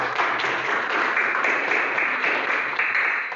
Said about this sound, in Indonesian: Bagus sekali, kita tepuk tangan.